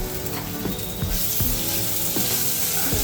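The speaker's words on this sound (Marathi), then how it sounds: "ह्याच्यामध्ये मी हे 1 चमचा आलं लसूणची पेस्ट टाकते" Ginger garlic paste dropped into a pan of onions fried until reddish, giving a loud, steady sizzle with occasional scraping stirs, close up with no talking.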